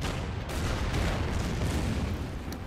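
Artillery fire in the naval strategy game Order of Battle Pacific, a dense, loud rumbling blast that swells quickly and rolls on for a couple of seconds before tapering off.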